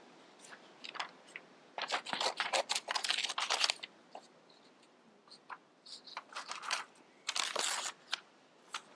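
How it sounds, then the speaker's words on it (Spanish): Scissors snip through paper while cutting out a traced silhouette, close and crisp, in irregular clusters of short cuts separated by brief pauses. "van a agarrar sus tijeras"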